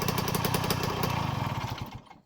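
A Honda MTX 50cc motorcycle with a 5 mm Doppler offset, original reed valve and 18 mm carburettor runs with a rapid, buzzy two-stroke putter close by, then fades out abruptly.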